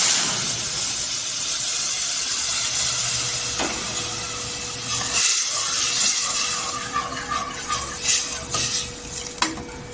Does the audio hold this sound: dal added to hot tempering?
yes